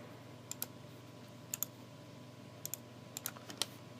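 Crisp, close computer mouse clicks come in small pairs and singles at a steady, unhurried pace while modeling in Maya, set against a quiet low room hum.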